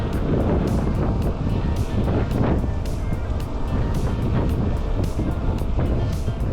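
Steady wind roars and buffets the microphone outdoors on a bicycle tour in autumn countryside, a dense low rumble with occasional gusts, no voices.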